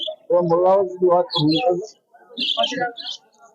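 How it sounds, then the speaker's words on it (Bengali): Birds at an open-air bird market under a banyan tree in Ashulia, Bangladesh, give short chirps and calls that blend with louder voice-like tones, filling the whole clip at close range. "চমৎকার সব পাখিগুলো আছে এখানে"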